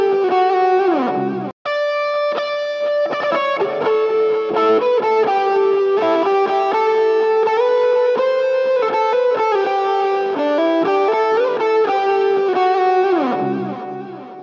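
An electric guitar plays a pushed clean lead through a MESA amp simulator driven by a tube screamer, a continuous melodic line with sustained, slightly driven notes, a brief gap early on and a fading final note.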